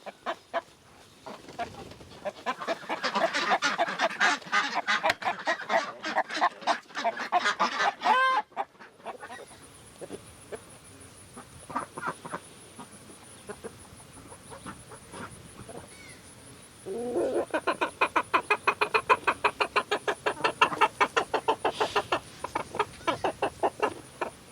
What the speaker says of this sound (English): the chickens have figured out how to go in the duck house